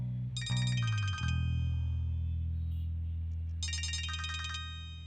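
A mobile phone ringtone plays in two bright electronic bursts, near and clear, over a steady low background hum in an indoor drama scene.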